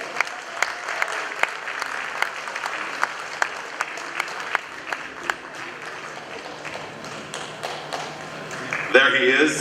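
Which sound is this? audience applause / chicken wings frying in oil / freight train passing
audience applause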